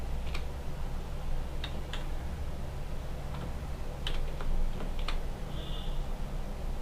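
Scattered keystrokes click on a computer keyboard while someone types in MS Word, a few quick clusters of soft taps over a quiet room hum, close but faint.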